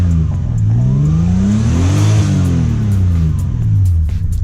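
A car engine revs up into turbo boost and falls back, one loud close rise and fall in pitch with a whirring edge, no talk.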